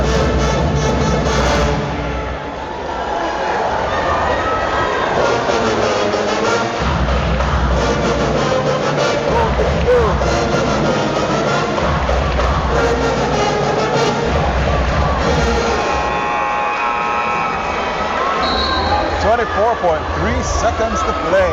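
A loud crowd roars and cheers continuously in an arena during a Florida high school state basketball championship final, Class 5A, with people talking over the din throughout.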